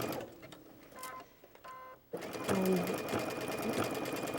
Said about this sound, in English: I'm literally stitching in the ditch only with my joining stitch